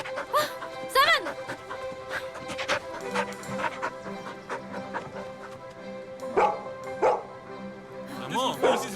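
A dog barks and yips in short bursts amid a busy cartoon scene, with voices talking and music running underneath.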